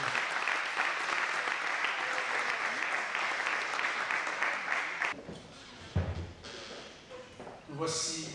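Sustained applause from a congregation at a church wedding, dense and steady for about five seconds before thinning into scattered claps and room noise with a few brief voices.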